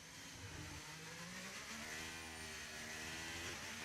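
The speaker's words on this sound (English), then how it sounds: "Always interesting to hear how much throttle the drivers like to put into the car through such a corner with that amount of camber" A Formula 1 car in the F1 25 video game, engine held on throttle through a cambered corner at Abu Dhabi, gives a steady, high, buzzing drone with rising gear-like harmonics, close and continuous.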